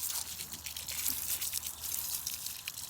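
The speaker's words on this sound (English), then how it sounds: "Just get a water hose" A garden hose sprays water onto a boiled deer skull being cleaned for a European mount, a steady close hiss of running, splashing water throughout.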